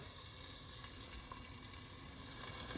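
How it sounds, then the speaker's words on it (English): Asparagus laid into a piping-hot pan of olive oil sizzles and crackles steadily, a close, dense frying hiss that runs evenly throughout without any talk. "you just want to go ahead and lay the asparagus in there while it's piping hot"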